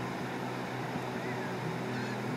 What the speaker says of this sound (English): Austin, there's a bird